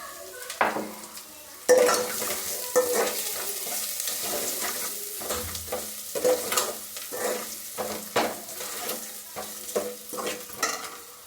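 Oil sizzles steadily while a spoon stirs and scrapes the pan in irregular strokes as cumin is fried for rasam, close and clear with no talking.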